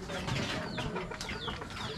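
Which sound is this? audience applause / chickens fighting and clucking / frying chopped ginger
chickens fighting and clucking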